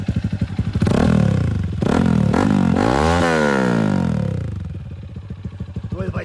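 A Lifan KP200 motorcycle fitted with a modified exhaust, loud and close, revving up through several throttle blips and a long rising rev before settling back to a lumpy idle.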